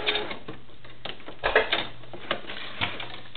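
A sewing machine stitches a doll shoe in short, uneven runs with faint mechanical clatter and occasional clunks, close and fairly quiet.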